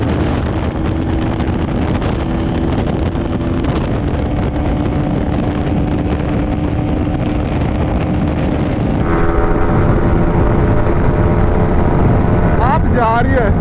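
A Yamaha R15 V3 and a Pulsar NS 200 accelerating hard in fifth gear, a loud continuous engine roar buffeted by heavy wind noise, the pitch climbing and shifting near the end as the bikes pull away.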